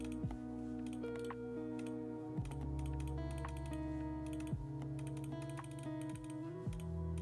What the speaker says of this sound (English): Excuse my loud clicking.